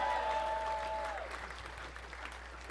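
Comedy club audience applauding during a stand-up special, a dense wash of clapping at moderate level, with a brief tonal whistle-like sound at the start before the clapping continues steadily and eases slightly.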